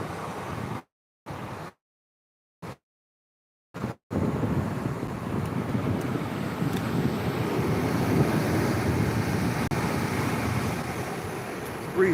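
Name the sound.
wind blowing by the water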